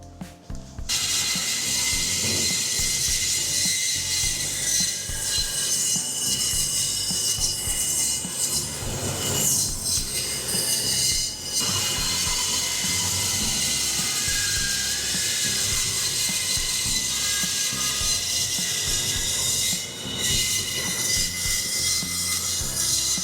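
A bandsaw cuts through a glued-up wood blank for a wooden vase, giving a loud, steady, rasping whine that runs nearly unbroken with small dips along the way.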